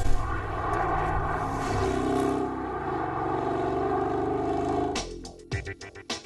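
A Fisker Tramonto engine drones loudly and steadily under load, its pitch climbing, then drops off sharply at the gear change before rising again in short bursts.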